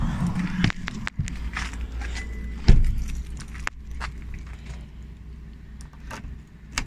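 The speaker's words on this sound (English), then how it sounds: "Key in, clockwise turn, locked." A key goes into the driver's door lock of a Hyundai Kona Electric and turns with a few close metallic clicks and key jingles, one sharper clunk standing out amid quiet outdoor background.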